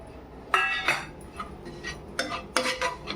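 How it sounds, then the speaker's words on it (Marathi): Grated coconut is stirred and roasted in a pan with a metal spoon, making several distinct scraping and clinking strokes against the pan, close and fairly quiet, with no talk. "ते पण एकदम असं मस्तपैकी कडक झाला पाहिजे असा भाजायचा कच्चा नाही राहिला पाहिजे खोबरा ढवळून ढवळून व्यवस्थित"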